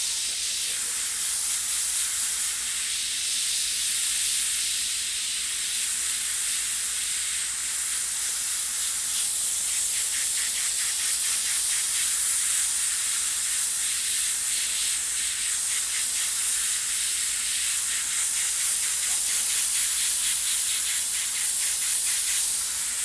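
Airbrush spraying Createx paint while painting firefighters amid flames, a steady continuous hiss of atomized paint and air running throughout, close and even in level with slight fluctuations, no voices.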